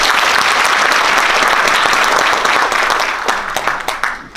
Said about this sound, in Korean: 고성국 박사님께 힘찬 감사의 박수를 한번 부탁드리겠습니다